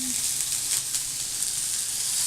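Southwestern stuffed peppers cooking in a hot pan, a loud, bright, continuous sizzle with faint crackles, close up and without speech.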